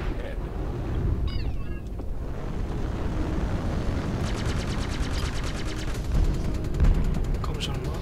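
Cannons fire on the player's ship in Star Citizen space combat, heard as a rapid rattling burst of shots over a loud, constant roar of engines and weapons.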